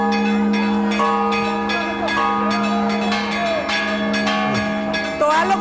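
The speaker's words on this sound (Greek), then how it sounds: "την καμπάνα χτυπά συνέχεια" A church bell rings again and again at a royal wedding in Greece, loud, close and resonant, with the tolls overlapping into a continuous ringing while a crowd murmurs underneath.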